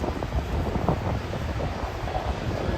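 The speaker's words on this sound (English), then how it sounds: "Now it's getting a little windy." Wind buffets a microphone on a Midtown Manhattan street at night, a loud, continuous rumbling roar that fills the whole clip with no clear pauses.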